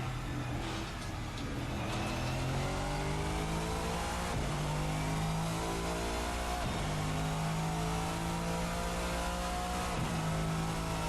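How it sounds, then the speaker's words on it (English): A powerful V8 race car engine in a racing video game revs and climbs repeatedly through gear changes, a steady roaring drone that rises in pitch, drops, and climbs again. "we've got ourselves a big torquey V8"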